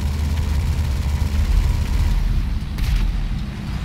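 A B-11 jet's explosive-round cannon firing at a high rate in GTA Online, a dense, loud, continuous low rumble of rapid booms and blasts with engine drone underneath, sustained throughout.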